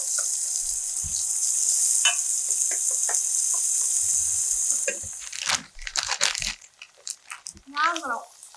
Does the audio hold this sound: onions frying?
yes